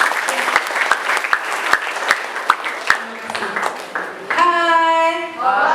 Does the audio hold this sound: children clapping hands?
yes